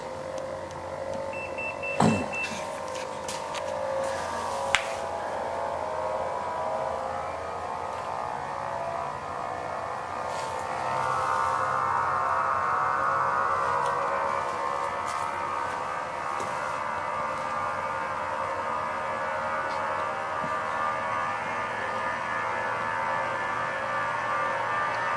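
A homemade pulse motor on a bench starting up on its own from a charging capacitor, a steady electric whine and hum that swells as it spins up, with a few sharp clicks early on.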